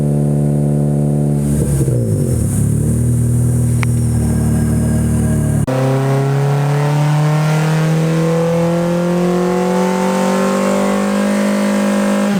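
K24-swapped EK Civic hatchback revving hard on a dyno, loud and close: the engine climbs through a rising pull, drops back, then sweeps up again in a long sustained high-rpm run, with no talk.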